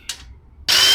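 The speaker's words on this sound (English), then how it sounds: "we're gonna have to drill a 5/16 hole just at the bottom of where the old clutch cable used to go" A power drill boring a 5/16-inch hole in a Honda CRX near the old clutch cable spot: a brief faint whir, a pause, then the drill starts loud and steady, close up.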